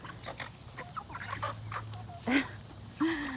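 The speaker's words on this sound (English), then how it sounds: "chickens are so funny. They're just funny. And there's a Cornish broilers American BRESSE right there" Cornish broiler and American Bresse chickens cluck and squawk close by in a hot coop, with scattered short calls and two louder rising squawks near the end.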